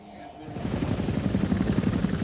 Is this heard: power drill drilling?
no